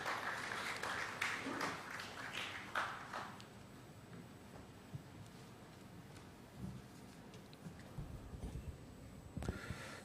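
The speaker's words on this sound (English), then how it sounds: "Please put a big round of applause welcoming our first speaker, Dr. Naveen Kumar, to the stage." Brief audience applause greeting a speaker at an annual day celebration and alumni meet, a few seconds of scattered clapping that quickly fades into quiet room noise with faint shuffling.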